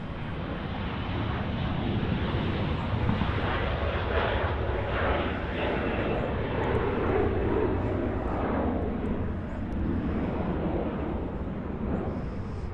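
A jet airliner taking off at Los Angeles International Airport, heard as a broad, sustained roar from a moderate distance that holds steady throughout, with faint wind buffeting on the microphone.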